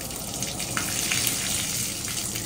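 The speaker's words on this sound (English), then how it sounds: "So now we're in here and start running the water." Hot water pouring steadily from a bathtub tap into the tub, a continuous rushing hiss at moderate level with no talking.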